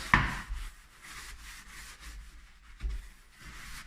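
A sponge loaded with foamed clay cleaning cream scrubs a limescale-coated surface, giving soft, steady rubbing strokes close up with a sharper scrape at the start and a few swells later.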